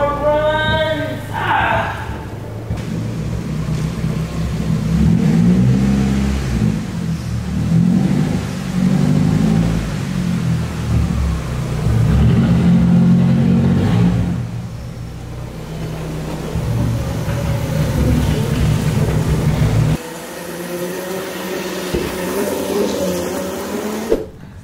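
A straight-piped Nissan S13 engine revs loudly up close, its raspy exhaust rising and falling in repeated swells over a rough idle, with a brief change in tone near the end.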